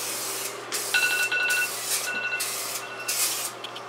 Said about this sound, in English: you just do a couple even sprays